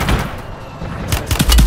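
Shotgun fire in the video game Call of Duty Warzone: a few sharp booming reports near the end over a noisy game background, loud and close.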